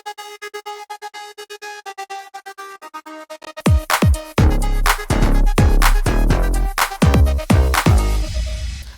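Synths chopped by a trance gate effect into fast rhythmic pulses, then joined by heavy bass and drum hits halfway through for a full, loud pop groove with no talking.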